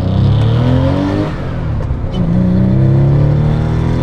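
A Porsche 993 Carrera 4S engine revs hard at full throttle through rising gears, pitch climbing in repeated sweeps with short dips between shifts, loud and close throughout.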